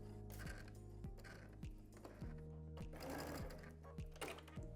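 A sewing machine back stitching a seam on a quilted coat, running in fast, even bursts of rhythmic stitching that start and stop a few times, close and loud.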